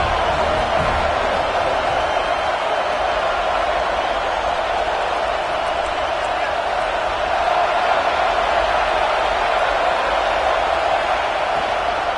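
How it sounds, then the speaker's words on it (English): A home crowd at a Georgia vs Florida State college football game roars loudly and continuously, a dense, unbroken wall of cheering throughout. "how nice is it to have the home crowd going absolutely bananas?"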